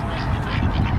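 Geese or ducks honk and quack loudly up close in a dense, continuous burst while being fed.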